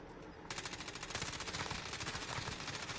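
Rapid automatic gunfire from a Warzone Rebirth match, a loud, close stream of fast shots that starts abruptly after a brief pause and rattles on without a break to the end.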